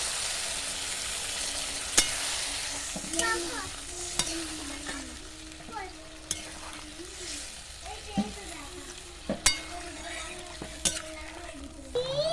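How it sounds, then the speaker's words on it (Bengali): Fried potatoes being stir-fried with spices in a pan for a soybean muitha curry, with steady sizzling and repeated scraping and stirring strokes, plus occasional sharp clinks of the spatula against the pan. "আলুর সঙ্গে সব মশলা খুব ভালো করে কষিয়ে নেব।"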